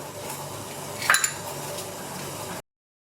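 Water at a rolling boil in a pot used to steam wheat puttu gives a steady, quiet bubbling hiss, with a brief louder bubbling burst near the middle.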